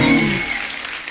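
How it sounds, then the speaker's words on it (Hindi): Studio audience applause on a Kapil Sharma comedy show, a loud burst of clapping that fades and thins out within about a second. "जोरदार ताली हो जाए।"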